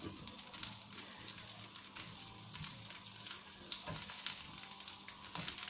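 Asparagus frying in a large pan of hot olive oil with a little butter, giving a steady, fairly quiet sizzle with faint crackles throughout, no voices.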